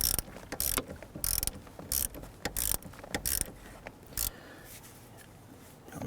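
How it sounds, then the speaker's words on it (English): Ratchet clicking in quick bursts while tightening the battery terminal nut on a 2011-2021 Jeep Grand Cherokee 3.6L V6, close and crisp, with short pauses between strokes. "let's go ahead and tighten down the terminal nut here."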